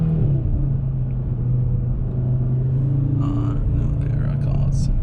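An Audi RS3 engine rumbles steadily with a low, continuous drone, close by, while brief bursts of speech come in over it near the end.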